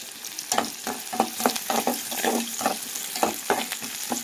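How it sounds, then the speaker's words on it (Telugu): Boiled pigeon peas frying in a pan, with steady sizzling and repeated rhythmic scrapes of a stirring spoon, close and fairly loud with no talking. "ఫ్రై చేసుకోవాలి బాగా ఇప్పుడే"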